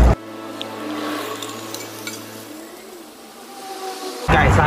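A fish head drops into a hot wok with fried shallots on a camping stove during heavy rain. A steady, close hiss of sizzling runs throughout and ends in a sudden loud, crackling surge.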